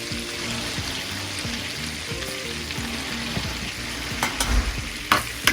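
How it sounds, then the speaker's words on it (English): Red chilli powder going into a hot, sizzling tarka of oil and spices for dhaba-style palak paneer: a steady close frying hiss with stirring scrapes, and a few louder clatters near the end, no speech. "And now I'm going to add about 1/4 teaspoon red chilli powder."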